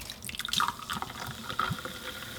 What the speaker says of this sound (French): je prends le cola américain au sucre de canne et que je verse également